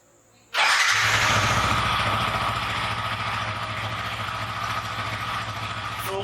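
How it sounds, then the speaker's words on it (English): A Yamaha R15 motorcycle engine starts after a brief quiet moment and then settles into a steady, close idle with a constant low throb, running alone with no voices. "So the bike is on right now and let it be in idle for at least 3 to 4 minutes"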